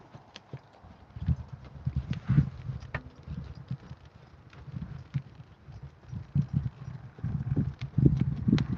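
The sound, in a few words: horse trotting hooves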